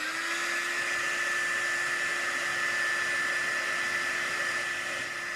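Heat tool blowing hot air over embossing powder on a St Patrick's card, a steady loud whooshing drone with a constant whine, close and uninterrupted.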